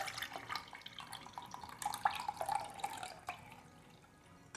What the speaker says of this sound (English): is strain out this water into a separate jug.